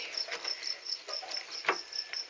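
Farmed crickets kept in breeding boxes chirp in steady, rapid high-pitched pulses, faint and continuous with no voices.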